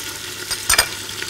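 Carrot, onion, celery and garlic sauté together in a pot for chicken soup, with a steady close sizzle and a few brief stirring scrapes in the middle.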